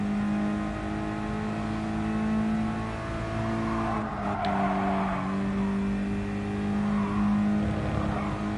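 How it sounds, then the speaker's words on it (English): A Mazda engine holding full throttle through a corner in Gran Turismo, a steady droning roar with a sustained pitch and faint tire noise, loud and continuous with no talking. "we are turning at full throttle, okay. So I'm turning at full throttle here, so no brake at all."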